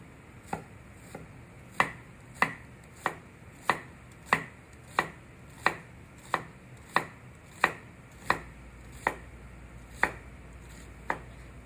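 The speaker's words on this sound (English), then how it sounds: "And now I'm going to slice it" A 10-inch Mercer knife slicing an onion from the side on a cutting board, about fifteen crisp evenly spaced chops, close and clear with no talk.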